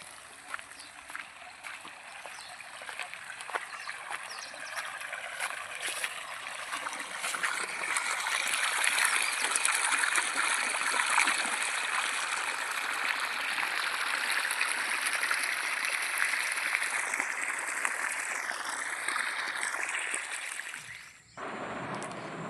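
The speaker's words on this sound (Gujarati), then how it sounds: "આપણે મોટર ચાલુ કરી દીધી છે અને પાણી પણ ચાલુ થઈ ગયું છે." Irrigation water gushing from a pump motor outlet into a brinjal field, a steady loud rushing and splashing flow that swells after a few seconds and continues, ending with a brief handling bump.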